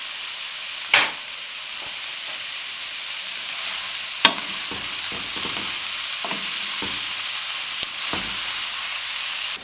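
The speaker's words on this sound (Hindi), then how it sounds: "अब इसमें हम बंद गोभी डाल देंगे। अब इसको अच्छे तरीके से हम फ्राई कर लेंगे।" Cabbage stir-fries in hot cooking oil, a loud, continuous hiss and sizzle with occasional sharp clanks and scrapes of a spoon against the pan and no talking.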